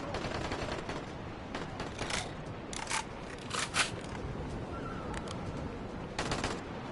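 Enemy gunfire in the zombie game Dying Light, The Following expansion: scattered bursts and single shots crack out over a steady background rumble, spaced irregularly with a louder burst near the end.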